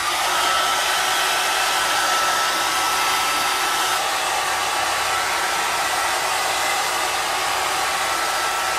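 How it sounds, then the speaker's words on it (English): A hair dryer blowing hair dry during platinum silver bleaching, a loud, steady broadband whoosh running throughout with no one speaking. "I'm gonna finish blow drying it"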